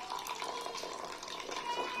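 A 12V mini water pump pushes a steady stream of water into a glass, making a continuous splashing, trickling rush that runs close and fairly faint throughout, with no talk over it.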